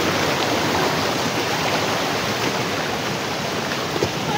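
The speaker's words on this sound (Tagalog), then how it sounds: "Sobrang lakas ng alon ng tubig." Strong water waves rush in a loud, unbroken wash of broadband noise, close and steady with no voices.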